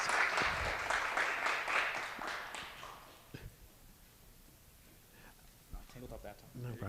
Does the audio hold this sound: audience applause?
yes